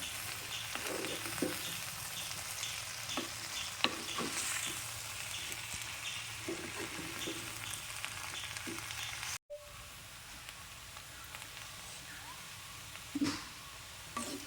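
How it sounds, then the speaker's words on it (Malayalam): Raw plantain stir-fry cooking in a pan on a low flame, with a soft steady sizzle under occasional light scrapes of a stirring spoon, a brief cut midway, and the quieter frying carrying on afterward. "ഇത് ലോ ഫ്ലെയിമിൽ വെച്ചിട്ടാണ് വേവിച്ചെടുക്കണത്."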